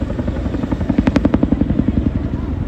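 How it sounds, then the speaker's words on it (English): A Chinook twin-rotor helicopter performs at a seaside air festival, its heavy rotor thump beating loud and steady in a fast rhythmic pulse close by, with no talk over it. "The Chinook will give us a nod farewell and then position future after the day."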